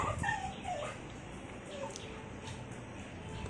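A dog whimpers in a few thin, falling whines at the start, faint and indoors, followed by quiet household background.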